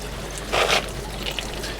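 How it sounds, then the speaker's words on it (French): Water pours from a tank outlet down into the lower zone of an artificial garden river, a steady broadband trickle with a louder splashing surge midway, close by and without any voices. "La plupart des eaux donc, vont tomber sur la partie basse dans cette zone-là que j'appelle donc la rivière artificielle"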